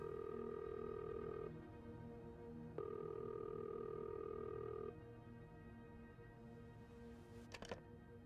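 Telephone in the horror game This Bed We Made: a steady two-tone dial tone breaks off briefly, resumes, then stops, followed by a quick burst of dialing beeps near the end against a faint background.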